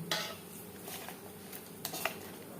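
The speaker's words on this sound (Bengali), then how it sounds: "লবণ হলুদ দিয়ে মাছ বেশ ভালো করে মেখে নেব।" Fish being mixed by hand with salt and turmeric in a bowl, giving soft wet squishing with a few light clinks of the bowl, close and quiet, with no talk.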